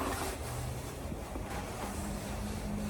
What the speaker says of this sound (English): and that wind will not stop